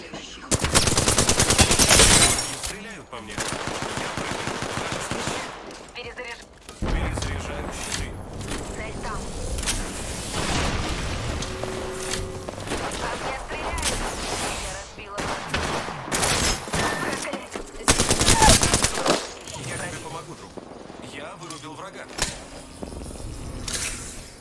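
Automatic gunfire in a shooter video game, loud rattling bursts coming in several separate volleys with quieter gaps of game noise between them, while a player talks over the action.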